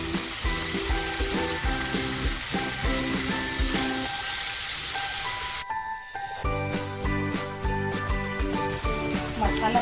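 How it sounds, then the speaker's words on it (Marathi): Homemade masala paste sizzling in a little oil for stuffed brinjal, a loud crackling fry that bursts sharper midway as the paste hits the pan, with faint background talk. "जो मसाला बनवून घेतला आहे ना तो मसाला तेलामध्ये टाकते"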